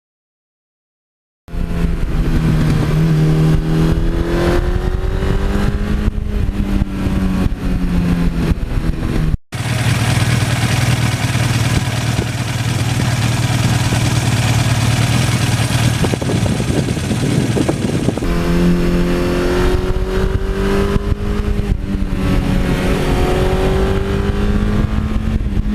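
A Suzuki GS1100E motorcycle engine, a forty-year-old superbike, drones loudly and steadily while being ridden, with repeated rising and falling pitch as it revs up through the gears and eases off, heard close and without talk.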